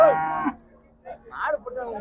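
A cow at the Vadalur cattle market gives one short, close moo, followed by a quieter stretch with murmuring voices and market noise.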